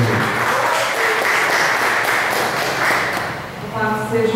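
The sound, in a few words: congregation applause in church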